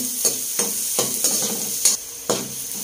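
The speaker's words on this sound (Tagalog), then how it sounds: "haluin lang po natin" Garlic and onion being stirred as they brown in a frying pan for pork estofado, with a steady bright sizzle broken by several sharp scraping spatula strokes, close and loud.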